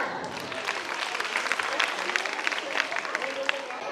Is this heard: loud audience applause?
yes